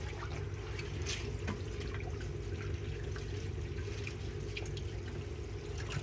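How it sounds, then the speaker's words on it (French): Running water pours over a coral frag being rinsed during reef aquarium maintenance, a steady close splashing and trickling stream with a constant low hum underneath, no talking. "Je rince un maximum."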